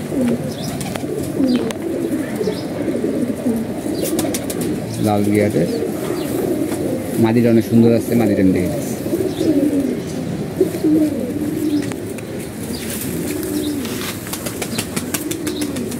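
Pigeons being paired in a loft coo steadily and flap their wings in brief bursts nearby, while someone talks over them for much of the time.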